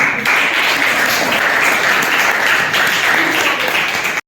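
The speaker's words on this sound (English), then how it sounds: "We will clap for Khushi." Students in a classroom applaud together, a dense, loud burst of clapping that holds steady for several seconds before cutting off abruptly.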